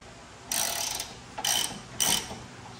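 A ratchet wrench works on the tow hook bolts of a Jeep Gladiator in three short bursts of quick clicking, close and fairly loud, separated by brief pauses.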